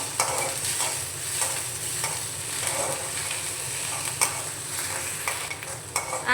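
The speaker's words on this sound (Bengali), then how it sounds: "আদা আর কাঁচা লঙ্কাটা একটু নাড়াচাড়া করে দিয়ে দেবো" Grated ginger and green chilli being stirred in a hot pan, with soft sizzling and a repeated scrape of a spatula in an uneven rhythm, close up and moderately quiet.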